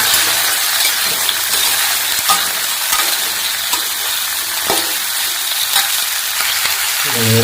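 Beans and capsicum frying and being stirred in a pan, a steady loud sizzle throughout with occasional scrapes and clinks of the spatula, no voices.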